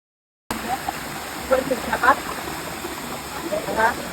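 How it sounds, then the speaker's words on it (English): A jungle waterfall at Than Sadet in Ko Pha-Ngan National Park rushes in a steady, close, broad hiss, with a few faint voices briefly heard over it. "That is full of waterfalls."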